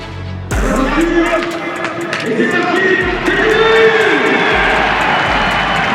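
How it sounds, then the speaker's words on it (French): A racecourse crowd at the start of the Grand Steeple-Chase de Paris horse race roars and cheers loudly and steadily, with a voice speaking over the din. "c'est sous les ovations de la foule qu'il s'élance"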